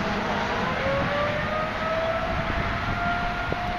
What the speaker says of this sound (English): So they got the sirens going now all over Springfield.